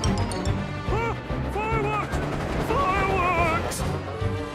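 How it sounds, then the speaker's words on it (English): Animated fireworks over a railway shunting yard in a Thomas & Friends cartoon: whistling rockets rise and warble between several sharp bangs and crackles, loud and busy from start to finish. "Fireworks!"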